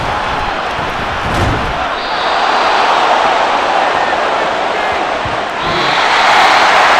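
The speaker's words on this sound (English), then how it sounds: "And the home crowd applauding." Home crowd applauding in a Madden NFL 24 game, Miami Dolphins versus Detroit Lions in a stadium: a steady, broad wash of crowd noise that holds throughout and swells near the end.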